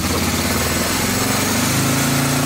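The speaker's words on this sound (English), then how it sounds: "See how it revved up?" A 4x4 ATV engine that won't start properly and may need a carb clean, running loud and close with a buzzy, steady drone that rises slightly as it revs.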